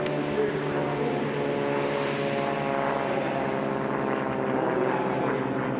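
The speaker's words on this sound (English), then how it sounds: "What a good look at that beautiful airplane as he begins to retract the gear." Race airplane named Breathless roars on takeoff at a sport-class air race heat, retracting its landing gear; a loud, steady engine drone holds throughout, close and dense with harmonics.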